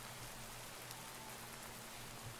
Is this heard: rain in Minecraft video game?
yes